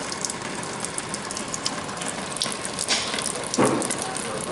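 Coolant drains from a car engine on a Ford 4.6 with a Kenne Bell supercharger, a continuous trickling, splashing wash with a few faint clicks and a brief louder gush near the end.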